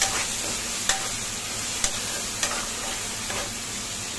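Chopped tomatoes with onion, chili, garlic, salt, red chili and coriander powder fry in a pan for dal makhani, giving a steady close sizzle broken by a few sharp spoon scrapes and taps.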